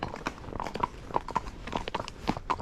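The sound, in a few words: horse hooves while gaiting on a trail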